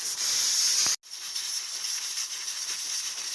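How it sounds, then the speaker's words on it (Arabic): Water poured into a hot pan over lightly seared meat for lamb tashreeb bursts into a loud steam hiss, cuts off sharply, then settles into a softer continuous sizzle and hiss. "هسه هنا حمسته حمسة بسيطة وضفت عليه الماي"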